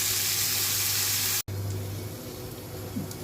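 Bitter gourd fries in a pan over low heat with a continuous close sizzle that cuts out for an instant, then resumes slightly softer, with faint stirring scrapes.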